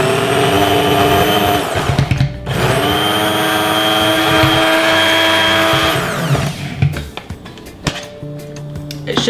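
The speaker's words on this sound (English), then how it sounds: "Now we're going to blend it." A tiny blender whirs loudly while blending a peanut butter tahini sauce, running steadily for about six seconds, then stuttering in short bursts before stopping.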